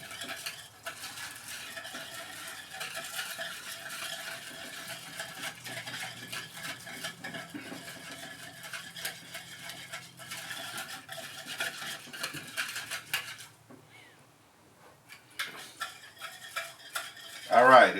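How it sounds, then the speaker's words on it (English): A spoon stirs salt and sugar into warm water for an onion pickling brine, a continuous soft swishing and occasional clink against the container, briefly pausing near the end before resuming. "in this warm water and mixture, I'm just going to stir it up until the salt and sugar dissolves"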